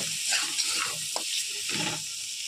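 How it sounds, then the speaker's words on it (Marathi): Chopped onion frying in a pan for soybean pulao, a faint steady hiss of sizzling oil with a few soft stirring scrapes and clinks, heard alone. "कांदा चांगला भाजून घ्यायचा।"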